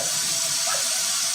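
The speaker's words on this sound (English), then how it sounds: "Our kitten just turned on the kitchen sink." A kitchen sink tap left running after a kitten turned it on hisses in a steady, even stream of water, close and continuous, with no voices over it.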